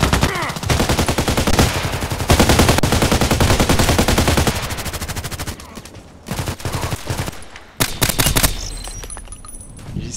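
Rapid suppressed automatic bursts from an AS VAL rifle in the shooter game Contract Wars on the Old Sawmill map, loud and sustained for several seconds, then breaking into shorter separate volleys near the end.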